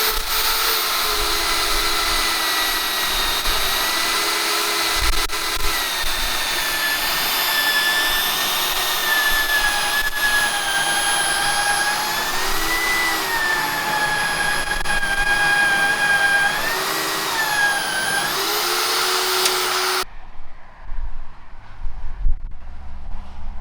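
A 24-volt electric anchor hoist runs on a Dutch fishing trawler under restoration, giving a continuous loud motor whine that wavers slightly in pitch for about twenty seconds before cutting off abruptly.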